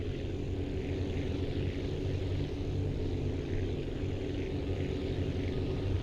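A video-game airplane engine drones steadily for several seconds, a constant low rumbling propeller hum at even loudness with no talking over it.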